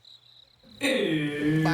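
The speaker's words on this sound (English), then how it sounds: "Crickets." A thin, steady high-pitched cricket chirring plays alone, then a voice starts speaking while the chirring continues underneath.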